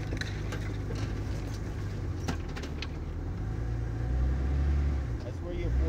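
A Jeep in four-wheel drive crawls slowly along a rough homemade road, its low engine rumble steady and swelling slightly toward the end, with a few knocks and rattles over the top.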